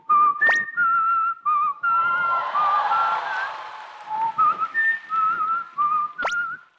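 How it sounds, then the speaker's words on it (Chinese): Someone whistles a melodic tune on a television music show, a clear close solo line of held and gliding notes with a couple of sharp breathy accents and brief gaps between phrases. "我现场吹口哨的话"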